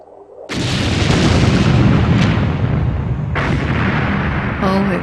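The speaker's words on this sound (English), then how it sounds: "Oh, it was a terrific explosion." A loud, sustained shipboard explosion aboard the Lusitania roars and rumbles for several seconds, with a second blast surging in partway through.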